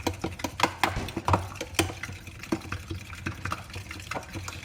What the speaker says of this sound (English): Now we're gonna stir this up.